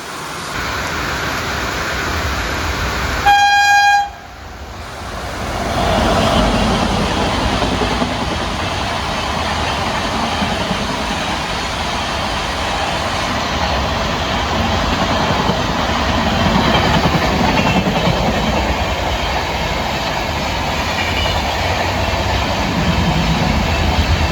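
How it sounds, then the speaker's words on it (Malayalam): A horn blast opens, then the Chennai–Mangalore Mail, an LHB coach train, rolls past near Chandera station in the rain, a loud steady rumble and clatter of wheels over rails with rain hiss underneath. "ഇനിയിപ്പോൾ നമുക്ക് സ്പോട്ട് ചെയ്യേണ്ട വണ്ടി ചെന്നൈ സെൻട്രിൽ നിന്ന് മംഗലാപുരത്തേക്ക് പോകുന്ന മെയിലാണേ"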